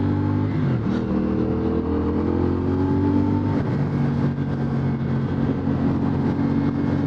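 A 2025 CFMoto CLC 450 motorcycle being ridden, its engine droning steadily close by with a brief rising and falling rev early on, the hum holding alone without talk.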